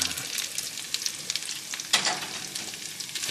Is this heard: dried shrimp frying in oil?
yes